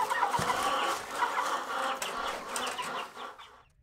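A flock of fast-growing Cornish cross meat chickens clucks and chatters continuously at close range, with a few wing flaps, before the sound cuts off abruptly.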